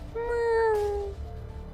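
A single drawn-out cat meow from The Room video game rings out clearly and fairly loud, a smooth tonal cry that fades after about a second.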